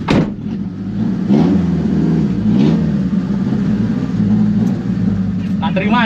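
A slalom race car's engine revs and pulls hard in first gear, a loud continuous mid-pitched drone rising and falling under Indonesian voices talking nearby.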